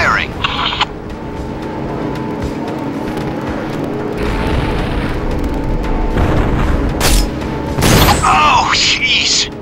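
Main gun cannon firing in the video game Syphon Filter: Logan's Shadow, heavy booms and cracks over a rumbling mechanical din, with a loud blast near the end and game voices talking throughout.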